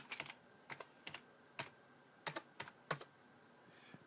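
Typing on a computer keyboard while formatting a disk, with short bursts of quiet key clicks in an irregular rhythm, close and alone in a hushed room.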